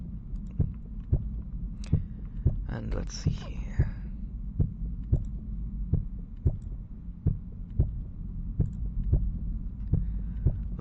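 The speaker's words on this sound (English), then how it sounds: "until you hear a heartbeat, a nice solid heartbeat in the background" A steady heartbeat sound effect thumps in a regular, even rhythm throughout the background, with a spoken voice briefly heard over it near the middle.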